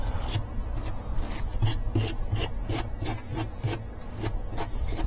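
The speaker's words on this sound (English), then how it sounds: "So I just take a wire brush and brush it at first." Wire brush scrubbing a dirty machine shaft during a restoration, a steady series of rhythmic rasping strokes, close and fairly loud, with no talking.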